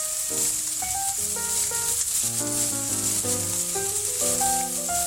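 Food sizzles steadily in a hot pan during stirring, a continuous hiss heard under gentle background music, with no talking.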